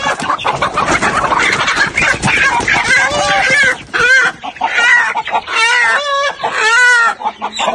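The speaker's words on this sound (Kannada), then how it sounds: "ಎಂತೆಂತ ಕೋಳಿ ನೋಡಿ." Chickens clucking loudly up close in a rural farmyard, a rapid series of repeated calls with overlapping voices and a crow-like cry, heard alongside people talking.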